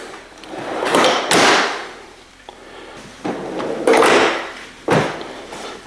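A heavy-duty Dewalt DXL toolbox drawer on full-extension slides rolls open and shut several times, with smooth sliding rushes ending in firm, solid thuds. The sound is close and loud, and no one speaks.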